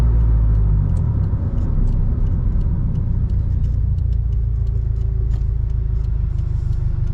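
A Scion FR-S engine idles steadily, a low, even rumble held close and continuous throughout with no voices.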